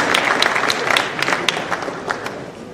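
Audience at a Kenyan film awards show clapping steadily, a thick wash of hands with a few sharper individual claps standing out, fading slightly toward the end.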